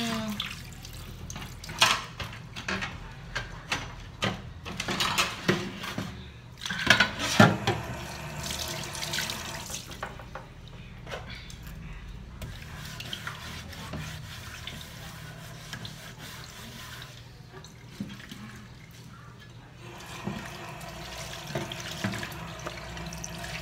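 Tap water runs into a sink and fills a container, a continuous splashing flow with shifting surges and clatters, close by with no talk over it.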